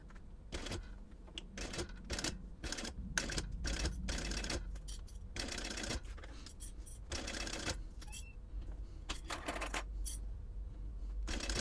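A sewing machine stitches a purse seam with rapid bursts of mechanical clatter, starting and stopping several times, close and clear without talking.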